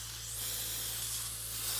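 Aerosol brake cleaner sprayed onto a brake caliper and carrier, one continuous close hiss lasting nearly two seconds over a faint low hum, with no voices.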